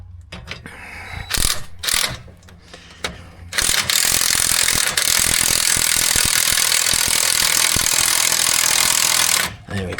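Mechanical ratcheting as a $16 spring compressor is cranked on a Chevrolet Suburban rear suspension coil spring, with separate clicks at first, then a long loud sustained run of ratchet noise before it stops.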